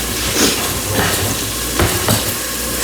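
Onions and garlic sauté in a pan as the base for a marinara, giving a loud, dense, continuous sizzle with a few soft knocks and scrapes from stirring.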